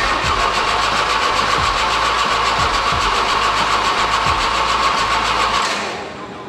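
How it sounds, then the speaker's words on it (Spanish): A Volvo 760 2.3T with a FuelTech programmable ECU cranks with rhythmic starter pulses over a loud, dense engine roar for about six seconds, then cuts off abruptly and falls quiet. "Vamos a intentar darle arranque"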